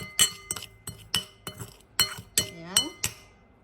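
A utensil stirs a roast potato seasoning mixture in a glass bowl, giving a run of sharp, close, bright clinks at an uneven rhythm, with brief speech between them.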